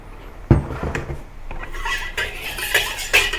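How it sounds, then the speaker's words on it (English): Metal utensils clank against a wok as oil goes in before peanuts are fried for Kung Pao chicken, with a sharp knock near the start, then scraping and clattering that grow brighter and busier toward the end. "Just add a little bit oil into the wok,"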